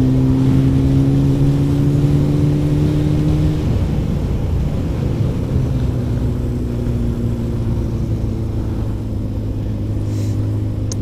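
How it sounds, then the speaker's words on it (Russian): Kawasaki motorcycle engine roaring on the road as heard from inside the rider's helmet, a loud steady drone with wind rumble, its pitch dropping for a moment mid-ride as the engine note shifts, no talking. "Этот звук, который в шлеме создается, блин, и рев мотора"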